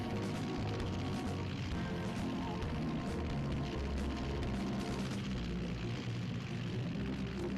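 Airplane flying in a Scooby-Doo Unmasked video game level, a steady broadband engine drone holding throughout under dense game music and effects, with no talk.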